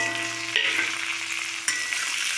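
Fried vegetables for a bitter gourd curry stirred in a hot pan, a steady loud sizzle with a couple of sharp spatula scrapes and knocks, no voices.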